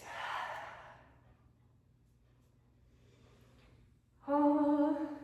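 Deep exhale during a yoga breathing exercise, a soft breathy rush of air that fades into quiet, followed by a brief louder voiced sigh-like sound near the end.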